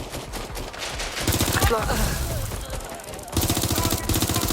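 Rapid bursts of automatic gunfire from a Watch Dogs: Legion firefight ring out loud and close in clustered volleys, pausing briefly mid-clip before resuming, with a short spoken line over the shooting.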